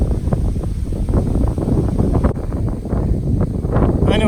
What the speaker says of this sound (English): it's quite windy out here, as you can tell